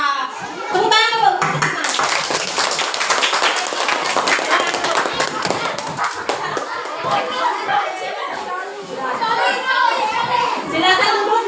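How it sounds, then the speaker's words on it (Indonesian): A classroom of children claps together in a lively, dense burst of close applause, with chatter and children's voices running through it and a teacher speaking. "tepuk tangan dulu"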